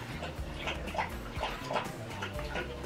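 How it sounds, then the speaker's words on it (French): A dog lying under a table whimpers softly, giving a few thin, high, short whines spaced apart over a faint room background, quiet and close. "C'est un beau chien."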